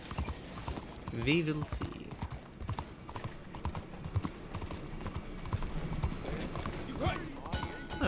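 Horse hooves clip-clop in Red Dead Redemption 2 on the streets of Saint Denis, quick repeated clopping mixed with game ambience and mechanical clatter, heard under someone talking.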